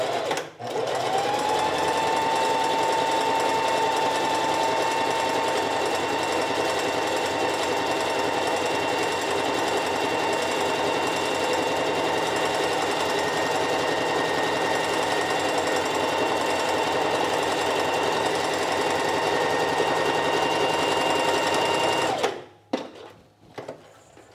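A sewing machine backstitches along a dress stitch line at 2.5 stitch length, one loud, continuous motor drone held for over twenty seconds, then cutting off abruptly and leaving quiet handling sounds.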